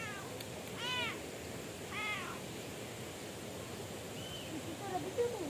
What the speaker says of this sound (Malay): Kucing, tu ada tu.